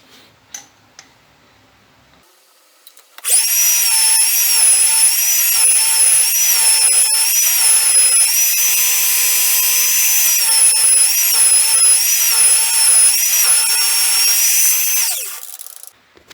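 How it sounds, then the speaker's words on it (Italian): Drill on a milling machine boring into a metal drum, starting after a few quiet seconds and running as a loud steady high-pitched whine with slight wavering for about twelve seconds, then winding down. "Con questa forratura arriverò fino al cuore di questo tamburo."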